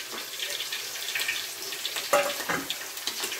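A milk and tikka masala mixture for paneer masala pours into a hot pan, giving a wet splashing pour with sizzling and bubbling bursts, close and fairly quiet.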